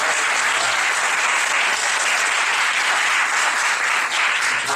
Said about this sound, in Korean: 우리 한번 더 힘내라고 용기의 박수 한번 드리겠습니다.